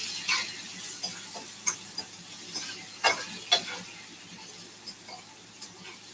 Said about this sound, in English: I'm just gonna saute this in the pot for a minute or two